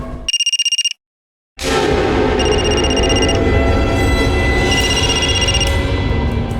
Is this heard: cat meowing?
no